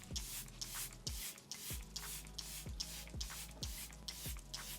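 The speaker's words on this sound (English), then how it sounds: "I'm gonna go back in with my Charlotte Tilbury setting spray and just spray everything and set it in" A quick run of misty spritzes of Charlotte Tilbury setting spray onto a face, about ten short hissing sprays in a steady rhythm, each with a soft pump click, close by.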